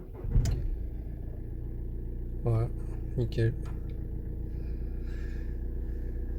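A VW Tiguan 2.0 TDI diesel engine idles after a restart, a steady low rumble running throughout. Someone speaks briefly over it.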